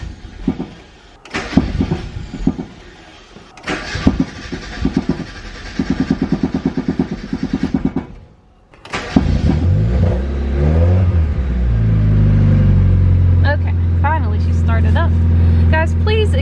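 A Mazda Miata engine cranks several times in bursts, then catches and settles into a loud, steady idle that swells as it is revved, all close by.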